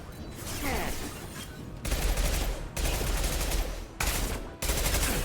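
Gunfire from the Mass Effect 2 video game, dense bursts of rapid shots and explosive blasts in loud, sustained volleys broken by brief pauses.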